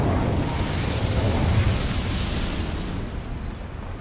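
Incendio fire spell in Hogwarts Legacy erupts as a loud, roaring whoosh of flame that swells, then slowly fades over a few seconds.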